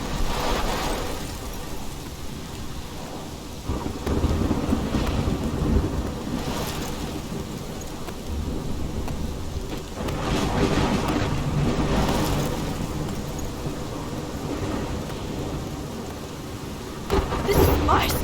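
Thunderstorm in Life is Strange: steady heavy rain hisses throughout while several loud, deep rolls of thunder rumble close by, with voices speaking over the storm at times.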